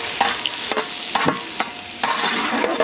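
Chicken and chopped onion frying in ghee with whole spices in a village cooking pot, a steady close sizzle broken by several sharp scrapes and clanks of a stirring ladle, with no talk.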